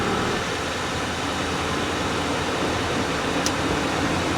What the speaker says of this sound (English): Hear that compressor?